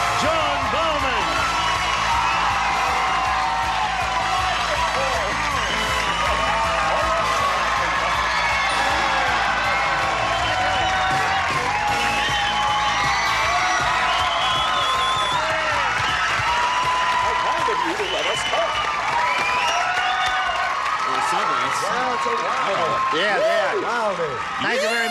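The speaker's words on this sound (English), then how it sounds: "We love the applause. But please, the whistling is really tough to take" A game show studio audience on the Match Game–Hollywood Squares Hour claps, cheers and whistles in a sustained loud wave, with rising and falling whistle tones over crowd noise and some talking mixed in.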